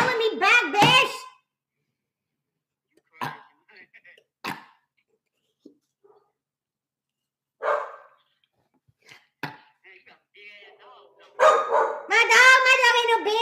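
Small dogs bark and yap in short scattered bursts during a phone call, heard between stretches of quiet, with a person talking loudly at the start and end.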